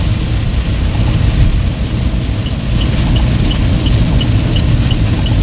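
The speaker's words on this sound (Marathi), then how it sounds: "काय पाऊस आहे, बेकार पाऊस आहे, बेकार पाऊस" Heavy rain drums steadily on a transport truck over a constant low engine rumble on an asphalt road, loud and continuous with no talking.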